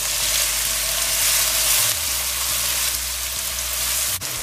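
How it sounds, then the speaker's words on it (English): Shrimp, garlic and wiri peppers fry in a hot pan with a loud, continuous close-up sizzle, and a low hum underneath shifts partway through. "I'm gonna let this fry for about 2 minutes."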